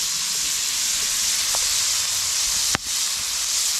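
Onion sizzles in a hot chili pot at a rainy truck campsite, a steady close hiss of frying with one sharp pop near the end.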